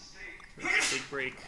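A single sharp sneeze bursts out briefly in the middle, followed by a short breathy sound, with a voice speaking close by.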